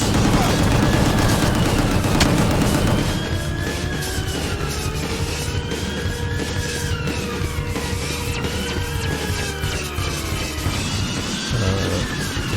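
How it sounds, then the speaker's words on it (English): Sustained gunfire and explosions from the action video game Gungrave GORE: rapid continuous shooting with booms layered underneath, loud and unbroken for the whole stretch. "If you just hold still, you can just keep shooting forever."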